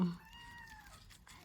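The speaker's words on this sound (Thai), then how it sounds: "ขออภัยนะคะที่มีเสียงแมวรบกวนบ้าง" A single faint, drawn-out meow from an indoor cat, fairly distant and quiet, followed by a soft background rustle.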